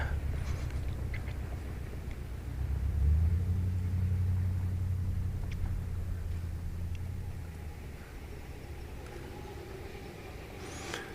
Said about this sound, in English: So you'll hear cars going by and you'll hear the occasional planes